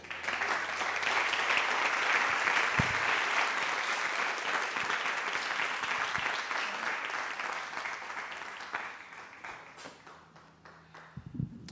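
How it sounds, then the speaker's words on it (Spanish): Congregation applause during a church teaching service, a broad, sustained roar of many clapping hands that holds steady for several seconds and then gradually thins and fades toward the end. "¿Cuántos le dan un aplauso a nuestro Rey?"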